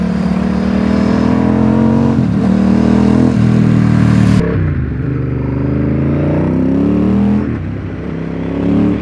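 A loud 2003 Ducati Monster 916 S4 engine roars and revs up close, its deep twin-cylinder throb rising and falling steadily with no voices present.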